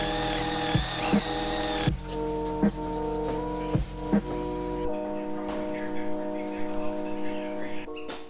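A power sander works over a car body being readied for priming, a steady close whine with repeated knocks and taps, then the pitch and texture change partway through as the tool carries on.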